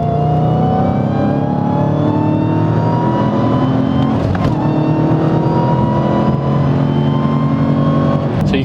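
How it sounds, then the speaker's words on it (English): A loud manual Dodge Challenger Hellcat engine roars at full throttle, revving up through rising gears with brief shifts between, close and continuous for several seconds. "if you really go on a full throttle run in this car"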